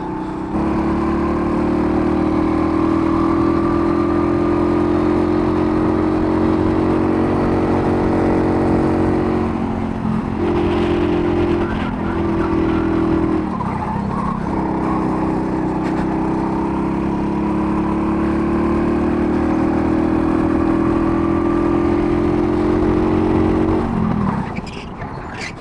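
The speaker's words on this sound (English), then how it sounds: "here we are in a rental kart. These things are way faster than your usual kart" A rental kart engine drones loudly and steadily on a race track, close to the driver, with pitch rising and falling through the laps and short dips under braking around the middle and near the end.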